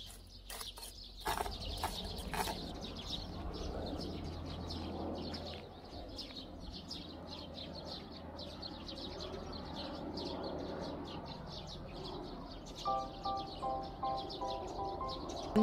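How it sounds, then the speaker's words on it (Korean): Many small birds chirp and sing outdoors on a May evening among blooming acacia trees in the Korean countryside, steady overlapping calls at moderate distance, with a brief rhythmic sound near the end. "안주를 하는지 새들은 왜 이렇게 많이 지저귀는 거야?"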